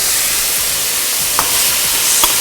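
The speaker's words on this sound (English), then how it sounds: "And then my Brussels sprout goes in" Brussels sprouts frying in a pan with sauerkraut, giving a loud, steady sizzle with a couple of brief sharper pops or stirring clinks.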